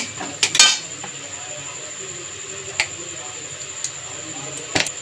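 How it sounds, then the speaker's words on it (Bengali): Boiled potato being stirred with asafoetida in a metal pan for aloo paratha filling, a few sharp spoon-on-pan clinks and scrapes spaced apart over a quiet background, with faint talk. "আলুটা দিয়ে হিঙের সাথে একটু নেড়ে ছেড়ে হিংটাকে মিশিয়ে নেব।"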